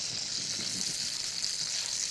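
Steady, bright sizzle of sausage frying in a little oil in a pan, with faint scraping as it is stirred, continuous and close with no talking.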